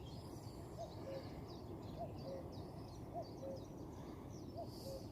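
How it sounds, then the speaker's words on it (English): A cuckoo calls repeatedly from the distance on a spring morning, its soft two-note phrase coming about every second and a half over a steady low rumble of background noise. "What I wanted to hear is the cuckoo"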